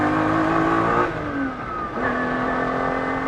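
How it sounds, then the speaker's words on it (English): A Ferrari 250 SWB restomod by GTO Engineering accelerates hard in second gear, its engine rising in pitch, dipping briefly at a shift, then pulling again loud and close with a strong harmonic howl. "But that engine is so punchy, and it pulls and pulls and pulls."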